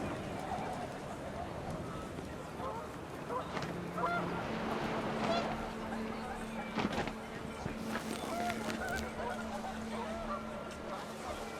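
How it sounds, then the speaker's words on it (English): Panicked geese honk in the video game What Remains of Edith Finch, a scattered cluster of calls over wind and background game sound, moderately distant and fairly faint. "panicked geese appeared and quickly went"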